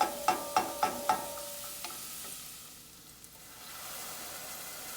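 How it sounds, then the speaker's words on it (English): Onions and fresh oregano sizzling in pancetta drippings for macaroni and cheese, a burst of quick metallic spoon taps on the pan at first, then a soft continuous frying hiss with occasional faint stirs. "Cooking the onions until they're translucent."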